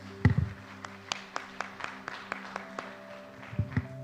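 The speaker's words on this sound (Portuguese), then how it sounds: "Vamos dar um louvor de palmas ao Senhor por isso?" Church congregation clapping in praise during a Portuguese-language sermon, a sparse, fairly faint rhythm of separated claps with low voice sounds near the start and end.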